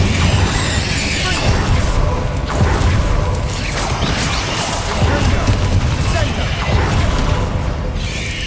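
The Incendio fire spell in Hogwarts Legacy bursts in a loud, continuous rush of whooshing flame and booming impacts amid busy game sound, with a voice shouting over it.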